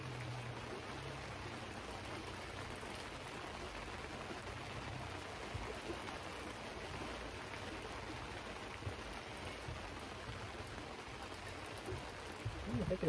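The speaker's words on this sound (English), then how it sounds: "In the rain." Rain falls on Francois Lake during a lake trout jigging trip, a faint, steady hiss of drops pattering on the water surface with no talk over it.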